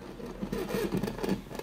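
Slow, uneven scratching and scraping on a door, a run of rough strokes close by with no voices.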